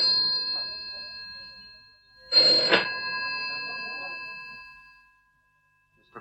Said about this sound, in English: is that the telephone I can hear ringing?